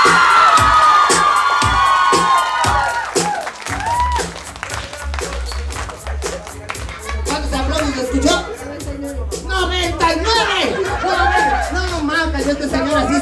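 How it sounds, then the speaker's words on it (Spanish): Crowd at a clown comedy show cheers and claps for a girl, a dense burst of loud applause and shouts at first that thins into scattered claps beneath continued talking and laughter. "¡aplausos para la niña!"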